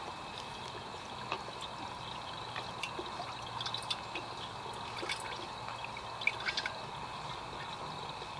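A garden gnome fountain being made into a Halloween display trickles steadily, a soft continuous splash with faint scattered drips, close and quiet, with no voices.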